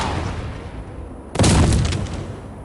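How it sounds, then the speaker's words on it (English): A grenade and a rifle grenade go off in the video game Project IGI: a quiet stretch, then a sudden loud booming blast with a rumbling, crackling tail that fades over about a second. "let's do a grenade and get a rifle grenade in there too"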